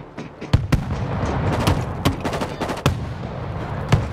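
Heavy gunfire from a big gun in a World War Z PvP match, with a rapid run of sharp, loud shots and booms over a busy battle din.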